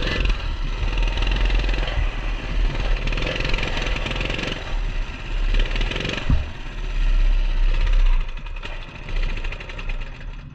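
The small engine of a Coleman CT200U mini bike, fitted with a new clutch, runs steadily with a rough, knocking chug and revs that rise and fall, heard up close throughout.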